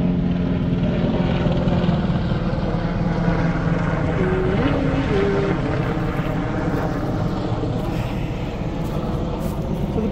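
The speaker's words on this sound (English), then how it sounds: "And now there's a helicopter." A helicopter flies overhead, a steady loud rotor and engine rumble that fills the whole stretch without letting up, with no talking over it.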